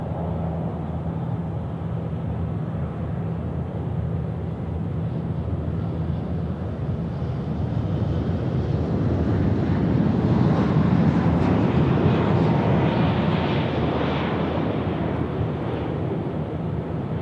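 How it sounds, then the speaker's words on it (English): A China Southern airliner inbound from Guangzhou touches down on runway 16 right at Sydney Airport at night, a broad, steady jet roar that swells toward the middle and eases off, mixed with wind noise on the microphone. "a bit of a bumpy landing there from the China Southern"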